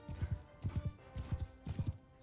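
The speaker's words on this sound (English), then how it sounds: "Let's take the horse, lads. We're in pursuit." A horse gallops in the medieval combat game Mount & Blade II: Bannerlord, its hooves beating in quick clustered clip-clop bursts with a steady rhythm, close and fairly quiet, with no one talking.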